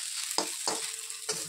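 An egg omelette frying in a pan gives a soft steady sizzle, broken by three quick scraping stirs of a spatula.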